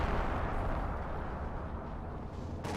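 An artillery barrage in Company of Heroes 2, heard as a continuous, heavy rumble of overlapping blasts and low booms with no gaps, and a sharper crack right at the end.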